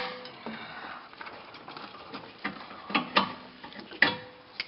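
A 13mm wrench turns a bolt during rear brake pad replacement on a VW MK5 or MK4, giving a series of light, close mechanical clicks and ratcheting ticks that grow sharper toward the end.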